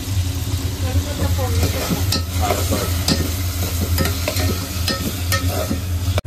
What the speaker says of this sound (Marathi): आणि आता आपण कढीपत्ता टाकलाय त्याच्यामध्ये.